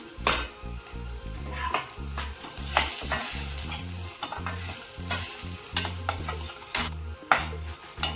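Tomato sauce with Kashmiri chili powder being sautéed in a pan: a spoon scrapes and stirs in repeated strokes over a soft, steady sizzle, close and alone without talking.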